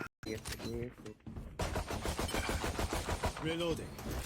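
Rapid bursts of gunfire in Valorant crackle in quick succession, with a person talking over the shots.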